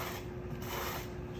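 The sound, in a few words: scraping dry clay on a table with a scraping tool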